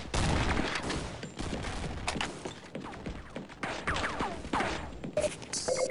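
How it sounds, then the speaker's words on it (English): Dense, sustained machine gun fire in a video game, rapid bursts and overlapping shots running nearly continuously with a few crash-like impacts, loud and close throughout. "Machine gun."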